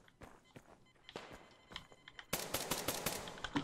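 Pistol shots in the shooter game Survarium: a string of sharp, close reports, sparse at first and then quicker and louder, with faint thuds between them and no talk.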